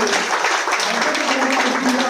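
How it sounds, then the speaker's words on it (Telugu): Crowd clapping at a Gopuja cow-worship festival held on Kanuma day in Nizamabad, a dense, steady wash of many hands that fills the whole stretch at an even level. "మీరందరూ చప్పట్లతో గట్టిగా వారికి"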